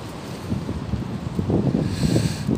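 Wind buffets the microphone in a low, gusty rumble, growing slightly stronger toward the end, with no voices.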